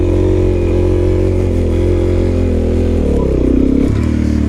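Motorcycle engine held at high revs as the front wheel lifts into a slow-speed wheelie, a loud close steady drone that shifts pitch near the end, no talking.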